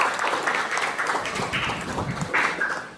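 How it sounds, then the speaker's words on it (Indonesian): Classroom clapping for a student, a moderate patter of hands from the class in a school biology lesson, fairly even and sustained throughout. "kasih tepuk tangan buat Rafeva"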